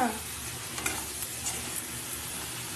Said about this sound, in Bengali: এটা আবার কাঁচা মশলা যতক্ষণ এ হবে ততক্ষণ অবধি কষাবো।